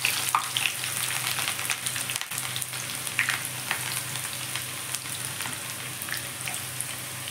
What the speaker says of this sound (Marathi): बरिस्ता बनवण्यासाठी मी हे 2 मोठे कांदे घेतलेले आहेत, ते आता मी कापून फ्राय करून घेणार आहे